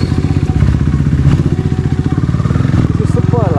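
A KTM Duke 390 motorcycle engine runs loud and close, throbbing steadily with rapid firing pulses and rev changes, with a clattery, thumping exhaust note throughout.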